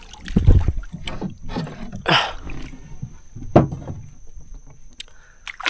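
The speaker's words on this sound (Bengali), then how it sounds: "সোজা এখন নৌকা বাইতে বাইতে ঘরের দিকে" A wooden boat is rowed along a river toward home at dusk, with irregular oar splashes and knocks against the hull, a steady high insect whine lingering behind.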